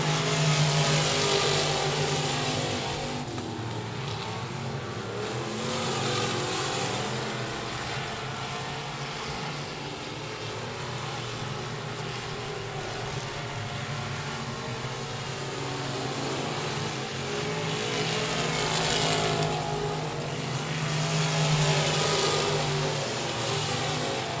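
Race cars at the 67 Speedway of Texarkana roar steadily down the front straightaway and into turn one, a continuous pack of engines rising and falling in waves as the cars pass, with no talk over them.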